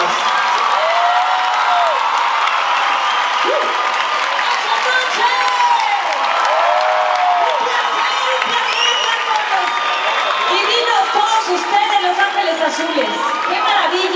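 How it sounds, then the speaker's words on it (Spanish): Concert crowd applauding, cheering and whooping, loud and sustained throughout, with scattered shouts and a voice speaking over the roar. "Aplausos para las..."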